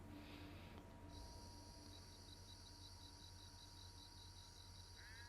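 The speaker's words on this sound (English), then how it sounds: "Now it's night time, as you can hear by the crickets" Crickets chirp in a steady, continuous drone over a quiet night-time background in The Last of Us Part II, with a faint low hum underneath.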